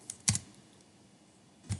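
Close, quiet key taps on a computer keyboard while a calculation is typed into a JavaScript console, a couple of clustered clicks near the start and one more after a pause.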